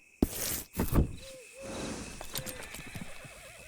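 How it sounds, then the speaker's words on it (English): Horse in Red Dead Redemption 2 whinnying with wavering, descending neighs, plus a few sharp hoof-like knocks and thumps at the start, fairly close and loud, no talking. "Oh, Rachel, you gotta eat some food. You're quite a horse"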